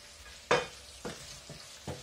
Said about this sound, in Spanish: que se vaya rehogando un poquito para que coja el sabor, el pollo de estas especias que hemos añadido